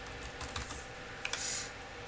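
Typing on a computer keyboard in a quiet room, a few soft scattered keystrokes with one sharper pair of clicks near the end, faint and close.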